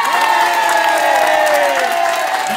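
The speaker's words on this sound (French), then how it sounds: "Allez, madame Batou, mes chers amis, applaudissements une première fois" An audience at a Miss and Mister pageant applauds and cheers in a steady, dense roar of clapping and shouting voices that stays loud throughout.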